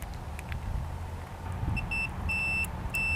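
A high electronic tank sensor alarm in an RV beeps in short repeated bursts, growing more frequent, over a low steady background hum.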